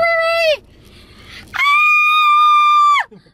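A woman lets out two long, loud, high-pitched screams of excitement over a new car, the first brief and the second sustained for about a second and a half, with a short quieter gap between them.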